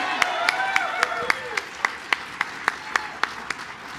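An audience at a White House Cinco de Mayo celebration honouring the first Latina Supreme Court justice claps in a steady, evenly spaced rhythm of sharp hand claps, with voices talking underneath.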